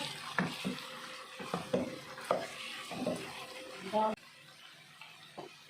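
Onion and tomato frying in a pan while being stirred, with repeated scraping strokes over a soft sizzle and a voice talking between and over the strokes.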